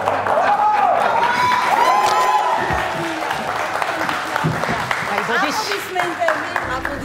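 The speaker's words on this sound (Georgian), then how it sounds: "აპლოდისმენტები." Theatre audience applause at a drama festival, a dense steady patter of clapping from a crowd, with people speaking over it and some cheering.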